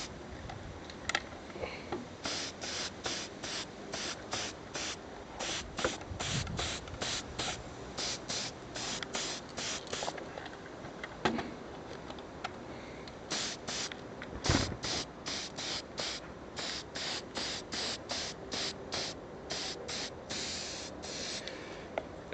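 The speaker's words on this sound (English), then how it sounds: "Just a matte spray. All you do, no real science, you just pretty much coat the entire model with it." An aerosol matte spray can hisses in a long series of short, evenly spaced bursts while coating a Tamiya JS-2 1/16 RC tank model, with brief pauses and light handling clicks between them.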